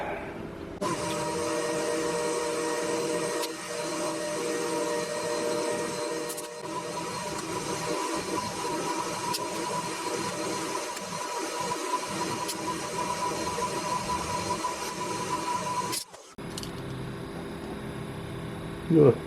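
A lathe cuts a 17.5 mm wide, 6.35 mm deep slot into a steel part for a Webster engine, giving a steady, loud mechanical drone with a constant motor hum and a gritty cutting texture. The sound stops abruptly near the end, then continues more quietly.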